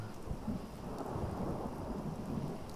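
In the video game Fallout 4, continuous rain patters over a deep, rolling rumble of thunder, steady and enveloping throughout with no voices.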